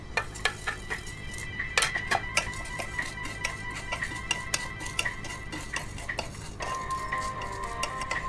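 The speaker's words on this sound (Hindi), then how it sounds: "अब मैं तवे पे सूखे मसाले डालूंगी और अच्छे से रोस्ट करूंगी।" Dry whole spices stirred and scraped on a hot tawa griddle over a gas flame, with steady clinking and scraping of a spatula on metal and a faint sizzle, close and continuous, no voices.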